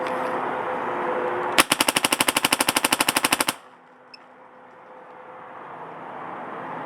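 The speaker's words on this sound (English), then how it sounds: "All right, let's shoot this over the chrono." A Pooty Clone blaster with a GT bolt fires a rapid burst of about twenty evenly spaced, loud shots over a chronograph, lasting roughly two seconds against a steady hum of background noise.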